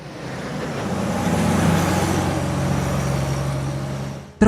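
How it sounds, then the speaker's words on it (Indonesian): Military trucks carrying soldiers toward the front near Bastogne rumble past as one steady, loud engine and road drone that swells and then holds, ending with a sharp cut. "Truk-truk militer pun melaju mengangkut sekian prajurit ke garis depan pertempuran"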